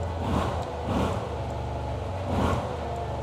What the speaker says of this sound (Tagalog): yung tunog niya merong character kasi meron siyang 360-degree crankshaft